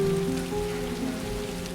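Steady rain patters on surfaces in an outdoor film scene, an even continuous hiss with faint low tones underneath and no voices.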